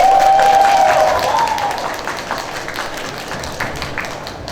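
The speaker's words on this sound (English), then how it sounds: "Please join me in welcoming them with a round of applause." Loud applause from an audience at a school English drama contest fills the room, steady dense clapping at first that gradually thins and softens, with a voice briefly audible over it early on.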